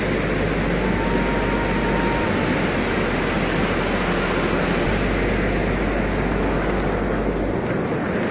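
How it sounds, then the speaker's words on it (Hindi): Continuous loud rush of flowing water, dense and steady like a nearby stream or cascade at Gurubeda, with no voices. "पानी का पूरा मस्त नज़ारा इधर बहता हुआ है, पूरा पानी का आवाज़ आ रहा है"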